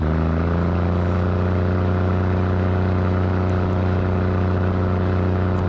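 Diesel railcar of local train 426, travelling between Surin and Chakkarat, drones with a steady, loud, deep engine hum and layered harmonic whine that runs unbroken and unchanging throughout, with no voices.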